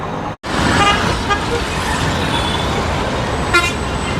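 Heavy daytime city traffic in Pune, with a steady roar of cars, buses and trucks close by and a couple of brief horn toots rising above it.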